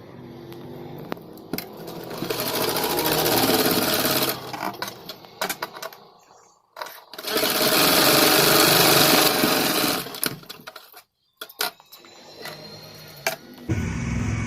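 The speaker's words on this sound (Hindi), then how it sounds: "तो चलिए मैं आपको ये सिल के दिखाती हूँ।" A sewing machine stitches a pair of shorts, its motor whirring loudly in two long bursts with shorter runs and pauses between them, with no voices over it.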